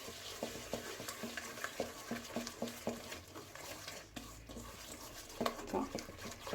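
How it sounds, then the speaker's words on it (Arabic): Stirring a vanilla sachet into a cup of sugar by hand, with steady rhythmic scraping and light gritty swishes repeating close by, a short pause, then busier stirring toward the end. "ساشي ديال الفاني، ومع كاس ديال سنيده، وكنخلطوهم مزيان"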